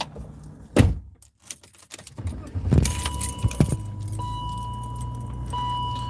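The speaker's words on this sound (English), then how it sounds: "Now I'm getting in my car." Keys jangle loudly as someone gets into a car, followed by the thunk of the door closing and a steady electronic chime tone with low cabin rumble.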